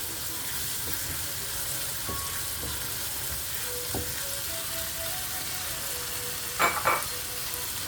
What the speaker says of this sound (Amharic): ትንሽ ከሽንኩርቱና ከቲማቲሙ ጋር እንጠብሰዋለን